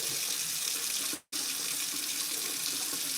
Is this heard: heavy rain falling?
no